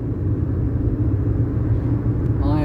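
Steady low engine rumble from the Project Ruby classic car on its first drive out, heard from inside the cabin as a continuous close drone with no talking.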